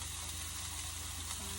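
Food stirred in a cooking pot gives a steady, soft sizzle and gentle scraping, faint and continuous without any talk.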